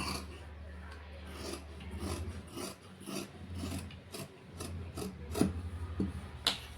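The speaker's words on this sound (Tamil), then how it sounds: "இது அப்படியே ஸ்லீவை கட் பண்ணிக்கலாம்" Scissors cutting through blouse sleeve fabric, a rough rasping snip-and-slide repeated in short bursts, close and fairly quiet with no talking.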